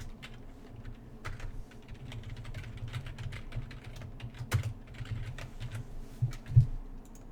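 Computer keyboard typing while writing CSS code, a steady run of soft key clicks at close range with a few slightly louder taps near the end, no talking.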